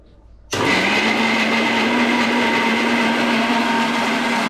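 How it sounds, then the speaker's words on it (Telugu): Mixer grinder blending cooked phool makhana curry ingredients, starting abruptly after a faint moment and running as a loud, steady high-pitched whirring motor drone before cutting off sharply. "ఇప్పుడు మిక్సీలోకి వేసుకొని గ్రైండ్ చేసుకోండి."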